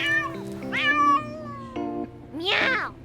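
A cat in a cat cafe meows loudly and close, several drawn-out, wavering calls in quick succession with a longer, rising cry at the end, heard alone.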